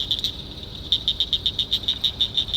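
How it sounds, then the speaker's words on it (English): Small frogs chirp in a cattail swamp in the Ozarks, a rapid run of high, bright, evenly spaced peeps repeating steadily, fairly close and clear over faint background hiss, with no talking. "just little chirpy frogs all over the place"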